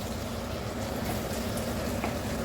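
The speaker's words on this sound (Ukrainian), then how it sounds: "невеличкими частинками піджарювати посередині печінку" Chicken liver frying in small portions in a pan gives a steady, even sizzle and crackle that carries on throughout, close by, with no voices.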